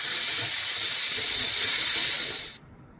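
Compressed air blows through a garden pond's water pipe while it is being winterized, producing a loud, steady, high hiss that runs without a break for about two and a half seconds and then cuts off abruptly.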